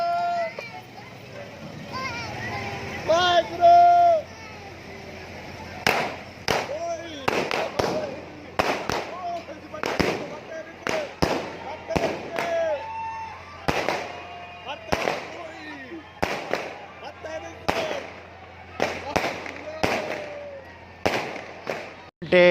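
Fireworks crack and pop in rapid irregular bursts over a steady low hum, with children's voices and crowd chatter mixed in, at a Guru Nanak birth anniversary celebration.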